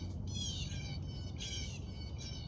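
Birds squawk in repeated harsh bursts, about three calls in quick succession, over a steady low rumble of background noise.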